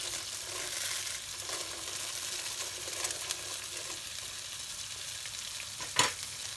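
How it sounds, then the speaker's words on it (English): Crushed vermicelli browning in butter in a pan, a soft steady sizzle with light scraping as it is stirred, one sharper clatter near the end. "I'm going to keep stirring, because this, you just need to brown it lightly before you do the next step"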